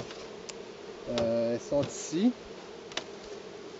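Honeybees on four frames taken from a hive to start a nucleus colony give off a close, steady buzz, while a person says a short phrase over it.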